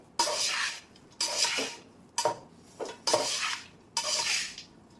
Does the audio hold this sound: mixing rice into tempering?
yes